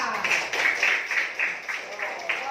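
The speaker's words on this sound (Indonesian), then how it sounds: "tepuk tangan buat kita semua" An Indonesian elementary classroom claps for everyone after singing the national anthem, a group of hands beating in a quick, fairly regular rhythm, close and moderately loud, with faint voices mixed in.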